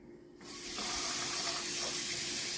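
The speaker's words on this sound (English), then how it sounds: "So the first thing you need is warm tap water" Warm tap water running from a kitchen faucet, a steady close rushing stream that starts abruptly and continues evenly, with no voices.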